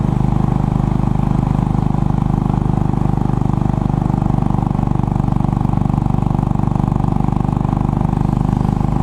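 A Royal Enfield Bullet 500 single-cylinder motorcycle rides along a road, its engine a steady, loud, close thumping drone that holds even throughout.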